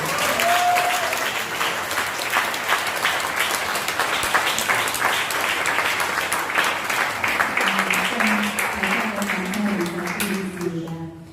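A congregation at a Korean church service applauds in a steady, dense wave of clapping that fills the room for the whole stretch, close and loud, with a voice briefly audible over it near the end.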